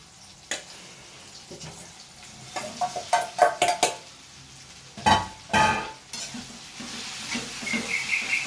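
Poha with chillies and chilli powder frying in a pan while being stirred: gentle sizzling under a run of close clattering scrapes and knocks of the spoon against the metal pan, coming in bursts, with no voices.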